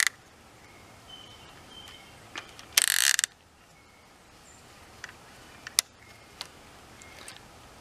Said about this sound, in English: They do come with a bait click option, so you can set the bait click